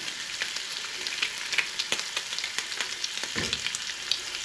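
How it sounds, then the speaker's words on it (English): Steady sizzling of a buttered ham and cheese sandwich frying in a pan, with scattered small pops and crackles over a constant hiss. "You start hearing that popping, you know it's like probably starting to crust."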